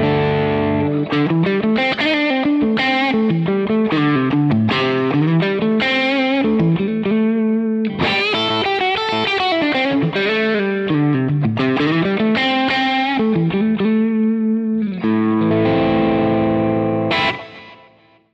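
Electric guitar through a Marshall Silver Jubilee amp with the rhythm clip circuit engaged, playing gritty, mildly distorted chords and melodic runs with a touch of reverb, loud and steady for the whole passage, no speech.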